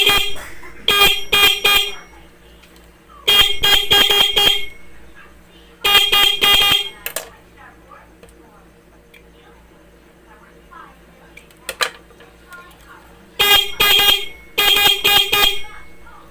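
Short bursts of a repaired motorcycle horn honking in repeated pairs and triples, loud and close, with quiet pauses and faint background noise between.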